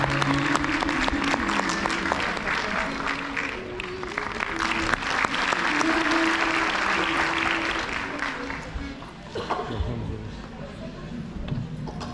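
An audience at a live music performance applauds in dense, sustained clapping that stays fairly loud, then gradually thins toward the end, with voices faintly underneath.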